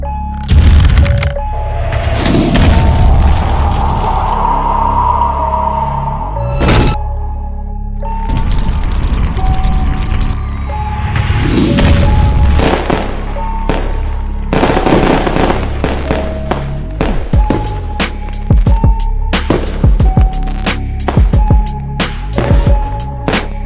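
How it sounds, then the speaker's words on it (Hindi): Firecrackers burst in an animated cartoon's Dussehra celebration, rapid crackling volleys with loud sharp bangs and pops repeating over about twenty seconds, with a few deeper booms among them. "आग लगा दीजिए मुझे जिससे वो पटाखे फूट जाएंगे"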